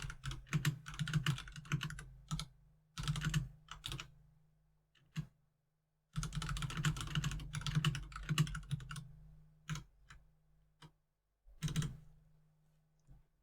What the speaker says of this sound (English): the timer's running while I'm typing stuff into the dialog